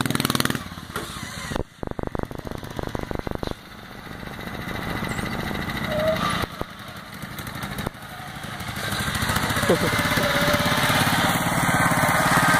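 Offroad riding lawn mower engine roaring close by, with choppy bursts and throttle surges as it runs over rough ground; rough, buzzing and continuous, no talk.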